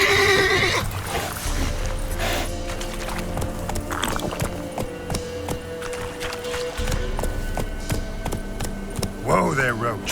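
Roach, Geralt's horse in The Witcher 3: Wild Hunt, whinnies loudly near the start and again at the end, over hoof clip-clops, game ambience and spoken dialogue.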